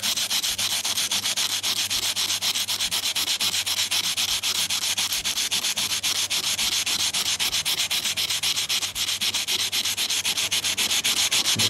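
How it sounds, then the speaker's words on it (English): Sandpaper rubbing steadily against dichroic-coated glass to strip the coating, a continuous close, loud, fast back-and-forth scratching that never lets up, with no voices. "Here I'm going to use some sandpaper and sand the coating off."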